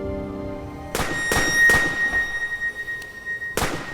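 Gunfire in a TV drama scene: several sharp, loud shots, with two close together and then scattered single cracks, over a faint steady tone and no talk.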